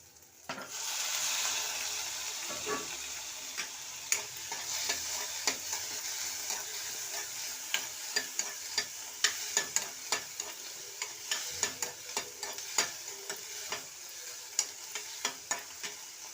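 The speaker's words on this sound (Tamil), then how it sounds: "வெங்காயம் தக்காளி ஓரளவு வதங்கிருச்சு" Onion and tomato sauté in a hot pan for an okra tamarind curry, a constant sizzle and frying hiss with a spoon scraping and tapping in frequent sharp stirs, no speech.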